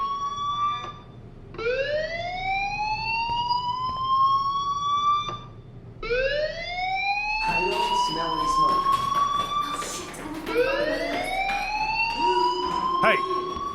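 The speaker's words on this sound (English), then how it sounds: "Hey, do you hear that fire alarm? That means you should be outside." A fire alarm in the video game Life is Strange, a rising electronic siren whoop repeating every few seconds, loud and steady, with background noise and talking over the later part.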